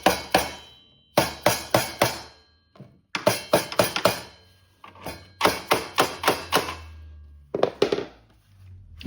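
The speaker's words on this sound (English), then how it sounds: "Just take a soft face hammer and just" A soft face hammer taps a template laid over fastener holes, giving quick clusters of three to five sharp, close knocks separated by short pauses.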